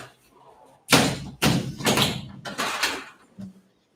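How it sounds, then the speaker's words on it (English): Doors are pushed closed nearby, giving a run of heavy thuds and knocks in quick, uneven succession before the room falls quiet. "I'm just going to close the doors here."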